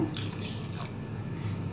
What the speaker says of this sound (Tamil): இப்போ கொஞ்சோண்டு எக்ஸ்ட்ரா தண்ணி ஊற்றுறேங்க